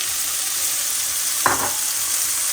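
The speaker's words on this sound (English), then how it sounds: "I have some oil here that I have heating up. I'm gonna drop in my beans." Beans dropped into a pan of heated oil set off a steady loud sizzle, with a short burst of spattering hiss as they hit, close and continuous with no talking.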